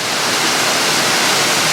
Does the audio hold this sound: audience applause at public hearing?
no